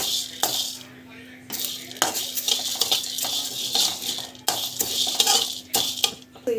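Curry leaves dry-roasted in a pan, repeated metallic scraping and clattering of a spoon against the pan in bursts, close and fairly loud, with faint background sizzle.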